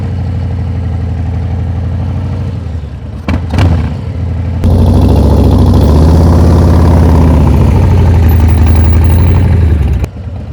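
A 2023 Harley-Davidson Breakout engine idles, briefly blips, then the throttle opens and holds a loud, steady rev for several seconds before easing off.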